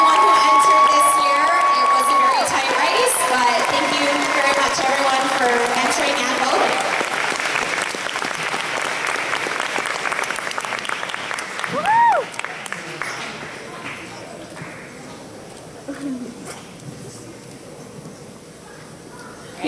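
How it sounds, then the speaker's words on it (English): A convention crowd at an anime con closing ceremony applauds and cheers for cosplay winners, with loud sustained clapping, whoops and children's shouts in the first half, tapering off with a voice speaking over the fading cheers. "let's get a big round of applause for our winners"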